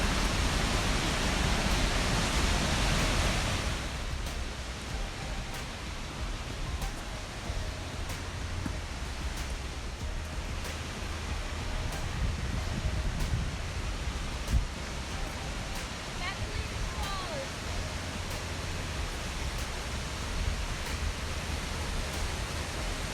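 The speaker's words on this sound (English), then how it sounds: "22-meter high McLean Falls got two drops" The 22-meter, two-tier McLean Falls in New Zealand roars as a steady, dense wash of falling water, loud and unbroken from start to finish, with a heavier burst of spray in the opening seconds.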